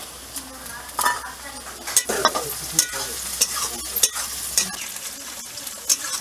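Tomato frying and stirred in a hot pan for a home-cooked lunch: a steady sizzle broken by repeated scraping strokes and light clinks of a spoon against the metal, close and fairly loud.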